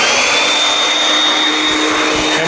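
A Vax 221-07 wet/dry vacuum runs outdoors, powered up to a loud, steady motor whine and airflow roar that stays even for the whole stretch, with faint city noise behind it.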